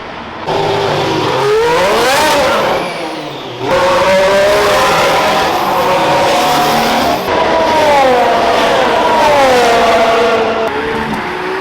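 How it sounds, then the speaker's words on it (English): A Ferrari F80 laps a race track at the Ferrari Finali Mondiali in Italy, its engine roaring loudly and steadily through rising and falling revs and gear changes, with a brief dip between pulls and no talking. "we have the F80 on the track, ladies and gentlemen"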